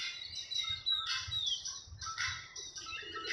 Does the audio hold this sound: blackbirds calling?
yes